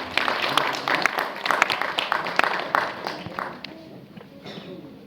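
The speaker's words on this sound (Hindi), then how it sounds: "Everybody give a huge round of applause." Scattered audience clapping at an award ceremony, with uneven, loud claps and some voices mixed in before it thins out near the end.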